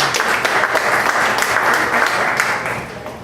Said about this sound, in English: You guys clap for French.